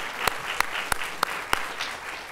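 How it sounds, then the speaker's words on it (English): An audience applauds a high school color guard at a civic event: a steady wash of clapping with several sharp, evenly spaced louder claps standing out, no voices over it. "Let's give a round of applause."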